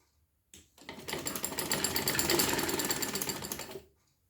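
A sewing machine stitches a loop onto a decorative sleeve, running in one steady, close, rattling whir for about three seconds before stopping, with no talking.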